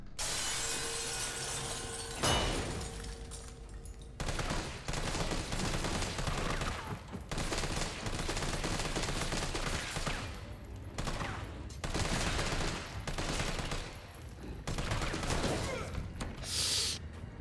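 Gunfire in Resident Evil 3 on PC, a flashbang followed by bursts of rapid, loud shots in repeated volleys with brief pauses between, a shattering crack near the start.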